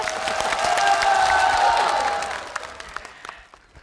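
An audience at a comedy sketch breaks into a short burst of clapping that peaks at about one to two seconds, then thins out into a few scattered claps.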